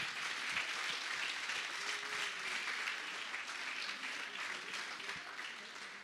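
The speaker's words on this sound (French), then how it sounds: "on les applaudit bien fort" A crowd at a handball club's opening party applauds the team, a continuous wash of clapping that stays loud and even throughout.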